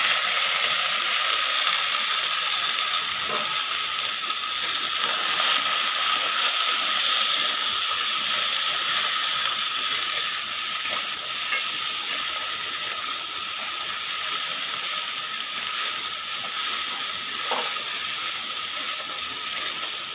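Crabs sizzle in a hot pan of fried ginger-garlic paste, a steady, loud hiss that holds evenly throughout without talk.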